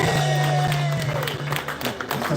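Crowd applause with scattered cheers for a musician at a live performance, loud and close, with a sustained tone from the stage or PA running underneath as the clapping begins to fade.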